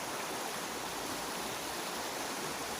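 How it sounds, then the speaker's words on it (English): Running water of a stream fed by mountain waterfalls in the Black Forest town of Schramberg in winter, a loud, constant broadband rush close by with no voices. "This running water is coming from the mountain, from the waterfalls."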